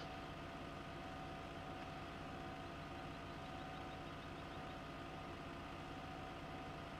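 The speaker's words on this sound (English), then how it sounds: "Alright, the tractor's on the move." A brand new tractor's engine runs at a steady, even drone in Farming Simulator 15, a constant low rumble with no talk.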